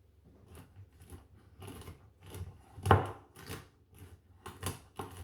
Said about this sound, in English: Transfer these to a chopping board and roughly chop them.